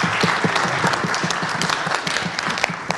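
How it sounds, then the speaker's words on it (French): Audience at an education congress applauding, dense continuous clapping with distinct individual claps standing out, close and fairly loud for the whole stretch. "Je crois qu'on peut applaudir pour ce..."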